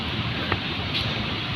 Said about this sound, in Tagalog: Napakalakas ng hangin mga kabraso.